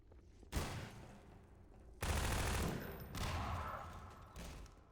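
Gunfire from Half-Life 2 Episode 1 in three loud bursts, the first short, the second longer and sustained, the third fading in a trailing echo, with no talking.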